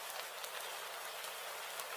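Steady rain pours down in a broad, even hiss with no breaks, constant and fairly soft, with no voices.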